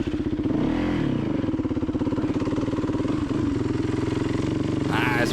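A dirt bike engine drones loud and close as the rider leans the bike back through a turn on a steep hill, its pitch rising and dipping with throttle while a voice talks over it.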